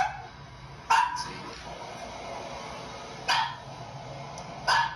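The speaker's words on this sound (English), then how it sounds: "My dog just started fucking barking for fucking reason." A dog barks in short sharp bursts, three separate barks spaced a couple of seconds apart, fairly close and loud over a quiet indoor background with no talking.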